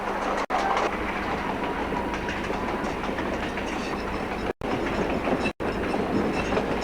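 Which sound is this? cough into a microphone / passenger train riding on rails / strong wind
passenger train riding on rails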